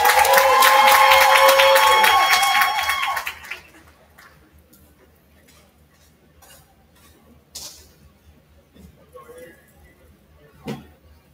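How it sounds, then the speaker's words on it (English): Audience applause and cheering fill the first three seconds at a high-school basketball team event, loud and dense, then cut off abruptly to a quiet room with occasional faint shuffles and knocks. "Let's give Eric a round of applause."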